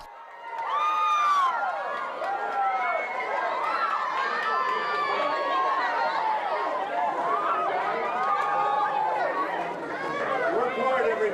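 A crowd of roughly 40 to 50 tour-goers shouts and screams excitedly as someone greets them, a dense, continuous burst of overlapping voices and chatter lasting several seconds.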